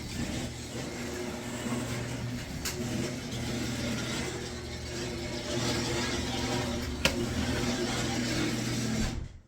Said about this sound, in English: Better listen to those cars.